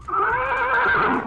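A horse gives a single loud, close neigh with a rising and falling whinny that lasts just over a second, heard alone.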